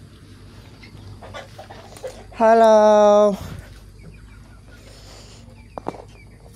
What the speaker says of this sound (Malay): Tu anak ayam yang kita baru letak guys.